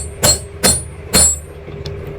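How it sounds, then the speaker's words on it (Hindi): A hammer gently tapping a new gear onto the armature of an 801 angle grinder, three sharp metallic knocks spaced about half a second apart, then a fainter fourth tap, close and loud with no talk. "तो अब धीरे से हथौड़े से ठोकर मारेंगे"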